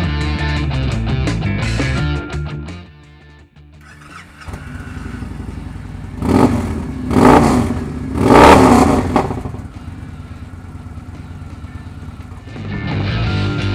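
A 2013 Victory Cross Country motorcycle with an aftermarket exhaust, heard with its engine idling and then revving loudly in three strong bursts before settling back to a steady idle, close to the microphone with no talk.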